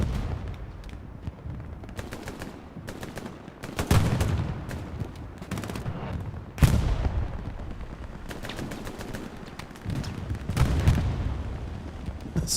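An artillery barrage in the World War II shooter Hell Let Loose on the Stalingrad map: repeated heavy booms and cracking impacts, near and far, over a constant rumble of battle, with several louder blasts standing out.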